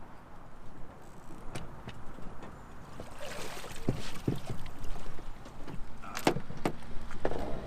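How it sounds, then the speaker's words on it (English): A sailboat motor sailing toward an Intracoastal Waterway inlet near the Dismal Swamp, with a steady engine and water wash throughout and a few sharp knocks and clatters on board, fairly close. "So we're just motor sailing toward the opening for the ICW."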